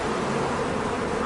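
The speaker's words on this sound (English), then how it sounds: "As Norm releases the bees, they come flying onto me at great speed" A swarm of bees released and flying onto a person makes a dense, loud, continuous buzzing hum that fills the space evenly, close up and steady with no pauses and no voices.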